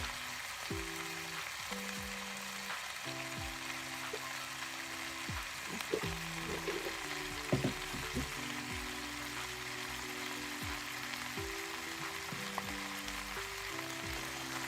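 Pork meat fries in a wok with a steady, faint hiss and sizzle throughout, with occasional soft clinks and scrapes over a low background hum.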